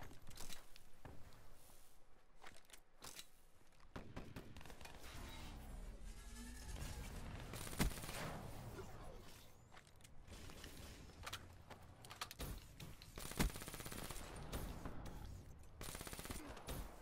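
Gunfire in a hardcore free-for-all video game match, with bursts of rapid automatic shots and scattered single cracks over a dense, continuous din of game noise, loud and sustained throughout.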